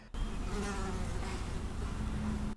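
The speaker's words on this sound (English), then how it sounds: "I'm sorry if you hear this fly buzzing around." A housefly buzzes close to the microphone, a steady, loud droning whine that holds without a break for over two seconds, with no voice over it.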